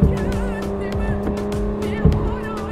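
A 1990 Mercedes W124 in Assetto Corsa drives hard with a steady loud engine drone and tire squeals as it slides, while a voice talks over it.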